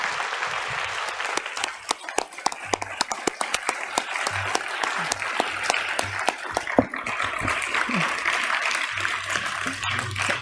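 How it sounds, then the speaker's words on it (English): Audience applause at the Clarke Awards ceremony honoring George R. R. Martin, a sustained round of sharp clapping from a seated indoor crowd, steady and lively throughout. "A round of applause for George R. R."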